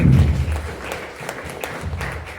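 Audience applause for a presenter, a burst of many hands clapping that starts loud and thins out within a couple of seconds.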